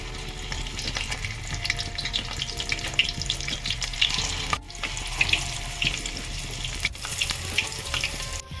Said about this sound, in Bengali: আমার অয়েলটা এসে আমি বকফুলের বড়াটা কড়াইতে দিয়ে দিলাম।